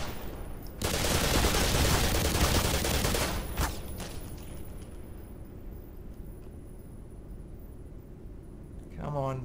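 A burst of rapid gunfire from the Black Mesa video game rings out loudly for about three seconds, followed by a single sharp shot and then a quieter low background hum.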